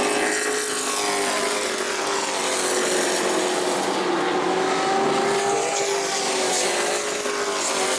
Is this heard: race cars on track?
yes